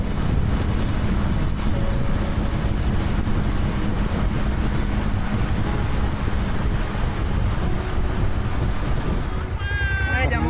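Motorcycle engine running steadily through a passenger ride on an experience outing for visually impaired riders, a loud continuous low rumble with wind buffeting, and a brief higher whine near the end.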